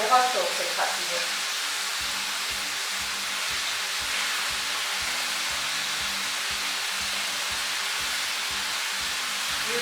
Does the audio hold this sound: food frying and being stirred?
yes